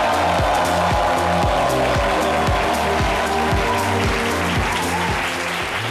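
An audience applauds a guest at a talk show taping, with dense clapping at close range that stays loud and steady throughout, a rhythmic low thumping running beneath it.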